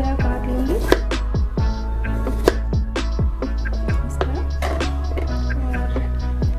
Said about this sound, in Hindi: इसका जो साइज़ है ऐसे राउंड को मैं इसी तरह काट लूंगी